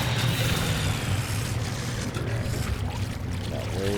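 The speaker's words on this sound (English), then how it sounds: "Now we can land on the water." An aircraft touches down on water in a VR game, heard as a dense rushing splash and engine wash that stays loud and continuous, with no talking.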